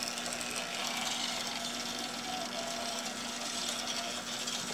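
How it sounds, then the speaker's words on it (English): An HO scale model locomotive motor, freshly cleaned at the rotor and carbon brushes, runs at a moderate throttle setting with a steady, even whir and a faint constant hum, close and unbroken throughout. "You can see now that at 50, the engine is starting and running well."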